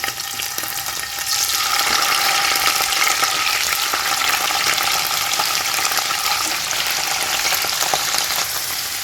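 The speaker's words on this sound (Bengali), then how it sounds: "পনিরগুলো একটু দিয়ে দেবো দিয়ে ভেজে নেব আর হালকা করে নুন দিয়ে দেবো আর হালকা করে ভাজবো" Salted paneer cubes fry in oil with a loud, steady crackling sizzle that swells after the first second and holds evenly throughout.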